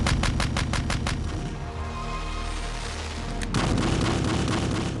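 Cannon fired during a daily training drill: a rapid run of sharp, loud blasts, then a heavier booming report after a pause, with no talking.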